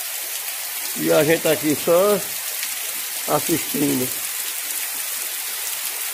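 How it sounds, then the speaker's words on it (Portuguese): Heavy rain pours down in a dense, constant hiss through the whole stretch, while someone speaks briefly over it in two short bursts. "A chuva cortando."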